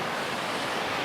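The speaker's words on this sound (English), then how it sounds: "There's lots of moving water where I am" Rushing water flows through an outdoor landscape, a dense, steady, close-up wash with no breaks or voices.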